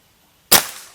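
A single sharp shot from a Bocap Monster tactical air rifle breaks near and loud out of near silence during an accuracy test, with a brief decaying tail.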